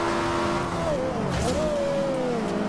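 Ariel Atom V8 engine in Forza Horizon 2 revs and drops through downshifts from sixth to third, a loud close engine note that dips and climbs again.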